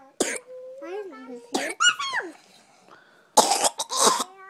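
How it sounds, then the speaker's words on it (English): A girl coughs in several harsh bursts during a role-play game, with children's voices talking between the coughs, close and fairly loud in a quiet room. "You're about to cough up a lung"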